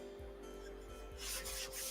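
Wooden dowel being sanded by hand, a steady back-and-forth rubbing that swells to a harsher, brighter scrape toward the end, close and alone with no talk.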